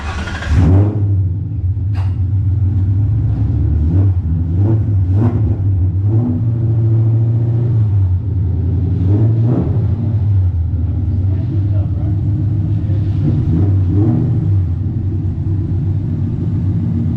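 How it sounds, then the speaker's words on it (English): A swapped Ford Coyote V8 engine rumbling at idle after starting, with several short revs rising and falling across the clip, loud and close, while people talk over it. "Let's see if it fires up. It should fire up."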